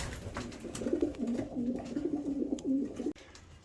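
Pigeons coo in a loft, a steady run of soft, throaty, warbling calls repeating close by for several seconds before cutting off abruptly near the end.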